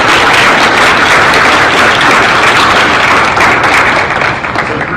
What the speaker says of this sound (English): So I'd like to just give a round of applause for Jacob Gentleton, who is in attendance he